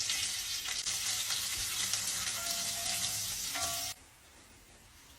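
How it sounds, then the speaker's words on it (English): Garlic and curry leaves sizzle steadily in hot oil for a Tamil-style egg curry, a loud continuous frying hiss that cuts off abruptly near the end, with no voices. "Adding our garlic and adding our curry leaves."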